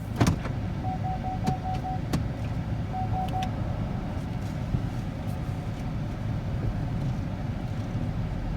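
A vehicle engine runs as a steady low rumble beside a pig stall, with a few sharp clicks and knocks near the start and no talk over it.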